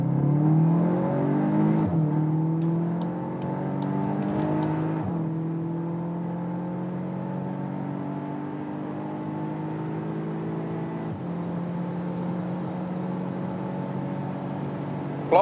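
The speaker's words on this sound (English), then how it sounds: "that's 200 kilometers an hour, 125 miles an hour, good acceleration, 320 horsepower" A VW Arteon R Shooting Brake with 320 horsepower accelerates hard on the German Autobahn, its engine note climbing steadily through the gears with a sustained, rising drone and a brief shift partway through, heard from inside the cabin.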